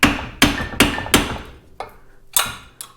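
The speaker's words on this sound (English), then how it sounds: "just taking a punch, blunt end, whatever, hitting it with a hammer" A hammer strikes a punch to drive rivets out of an upper A-arm, about six sharp metallic blows at an uneven pace, close and loud, each one ringing briefly before it fades.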